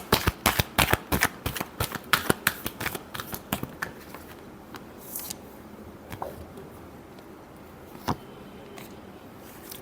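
Tarot cards are shuffled by hand in a rapid run of crisp riffling slaps that fades into a few scattered soft card handling sounds, close and fairly quiet.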